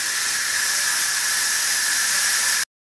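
Steam vents from a pressure cooker on quick release while lobster cooks inside, a loud, steady, close hiss held for over two seconds before cutting off abruptly.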